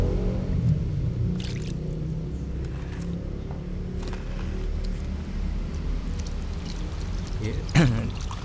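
Water pours steadily to wash fish before cooking, under a constant low rumble of background noise, with a few faint clinks and splashes along the way.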